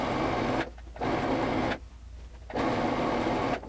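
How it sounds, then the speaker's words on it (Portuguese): A sewing machine stitches a straight seam on a mermaid-style dress in three steady mechanical runs. Each run lasts about a second and is separated by brief pauses, close and fairly loud, with no voices. "eu só vou virar aqui uma vez e vou passar uma costura reta aqui"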